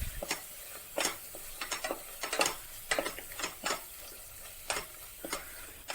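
Spice powders for a lentil and tomato curry (parippu thakkali) are stirred in a hot pan, with a spoon scraping in a steady, repeated rhythm over a soft sizzle. Close and fairly quiet, with no voices.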